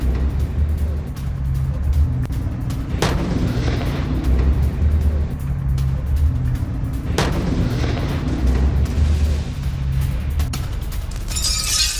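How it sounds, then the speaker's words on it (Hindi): Heavy blasts from US and British air strikes on Sanaa, Yemen, targeting Houthi weapons depots, with two loud booming impacts several seconds apart over a constant low roar of distant rumbling. "यमन की राजधानी सना में बमबारी की गई।"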